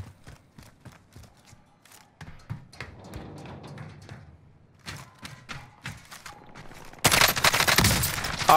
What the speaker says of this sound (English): I think I'm getting shot at by the people that shot at him